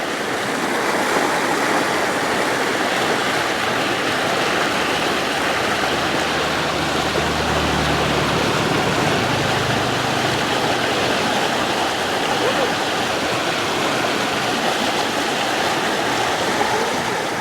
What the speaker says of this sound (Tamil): இந்த ஆற்று தண்ணி ஊற சத்தத்தை பார்த்தீங்களா?